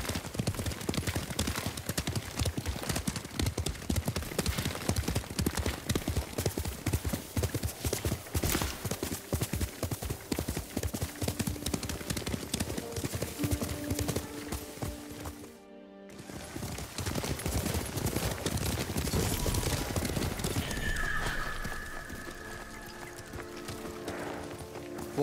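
A horse gallops in Ghost of Tsushima, with steady, close clip-clop hoofbeats running almost throughout. The hoofbeats cut out briefly about two-thirds through, then resume beneath a layer of game music.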